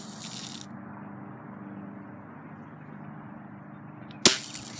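A single sharp BB gun shot cracks out near the end, a brief loud snap following several seconds of quiet outdoor murmur.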